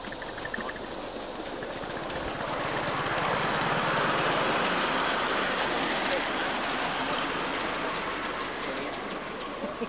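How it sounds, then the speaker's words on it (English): A locomotive driven at an October 1994 club birthday event runs on rails, giving a steady, fairly distant rushing and rumbling roar that swells slightly midway and carries on unbroken. "Mark Chapman's got Paul driving his loco now."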